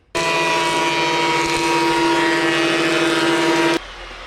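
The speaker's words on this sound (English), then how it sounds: "So let's plane it." Power planer cutting a wooden block for a fiberglass bike fender base, a loud, close, steady high whine held for several seconds before abruptly cutting off.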